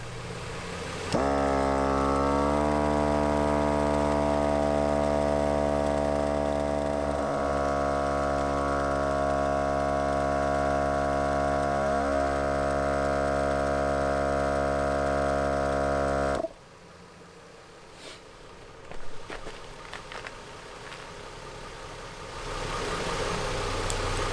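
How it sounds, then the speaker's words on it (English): A Viair 88P portable air compressor runs steadily, inflating a tire from 28 to 42 psi with a loud, droning motor hum and a rising whine after startup, then cuts off abruptly, leaving quiet handling noise. "let's see how long it takes the 88P to bring it up to 42 psi"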